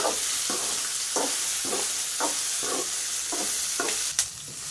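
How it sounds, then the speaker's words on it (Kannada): Chopped tomato masala frying in a pan for a paneer curry, with a steady close sizzle broken by regular scraping stirs about every half second, no voices. "ಚೆನ್ನಾಗಿ ಬ್ರೌನ್ ಬರೋವರೆಗೂ ಫ್ರೈ ಮಾಡಬೇಕು."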